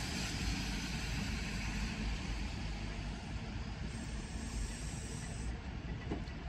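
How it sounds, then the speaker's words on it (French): An electric vehicle charging station at an aerodrome event starts up, giving a steady loud broadband hum and hiss that holds evenly throughout with no talking. "la borne elle met du temps à se mettre en route, parce que là elle commence à faire du bruit"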